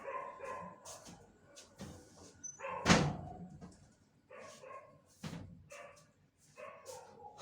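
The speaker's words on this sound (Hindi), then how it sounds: "कुत्ते भौंक रहे हैं," Several dogs bark in scattered bursts, some sharp and close, others fainter, with one loud bark standing out among quieter yips.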